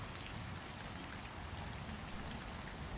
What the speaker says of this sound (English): Settle in and let the rain carry you.